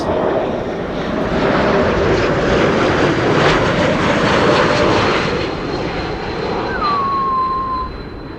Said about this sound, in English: listen for the whistle that you could hear from the E2, the A220s as well.